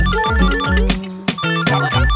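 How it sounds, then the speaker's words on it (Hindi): A mobile phone rings loudly and close, playing a repeating melodic ringtone in bright tonal bursts with no speech. "फोन बज रहा है।"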